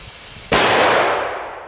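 A single Trueno Special Number 6 firecracker goes off with one sharp, loud, bass-heavy bang after a quiet pause, followed by a short fading ring.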